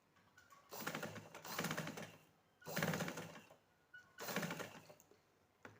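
A sewing machine stitching shirt cloth along a chalk mark, three separate bursts of fast rhythmic mechanical whirring, each about a second long, with quiet pauses between them.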